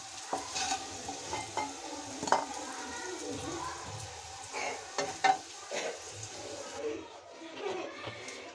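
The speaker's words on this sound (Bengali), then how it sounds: "আলুগুলো হালকা ফ্রাই হয়ে গেছে, আমি তুলে নিচ্ছি।" Lightly fried potatoes lifted from hot oil in a home kitchen, with soft sizzling, utensil scrapes and clinks against the pan, while someone talks over the cooking.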